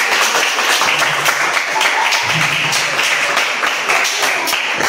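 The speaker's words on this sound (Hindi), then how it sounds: "बच्चे तालियां भी बजा के स्वागत करें" Children clap to welcome their grandfather at a family birthday celebration, giving loud, continuous applause with some faint voices mixed beneath it.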